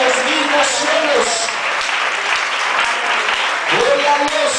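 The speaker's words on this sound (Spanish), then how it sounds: "Vamos a dar un aplauso a ese que es más sublime que los mismos cielos" Church congregation applauding and cheering together at a worship service, a steady dense wash of clapping running throughout, with voices calling out over it near the start and again near the end.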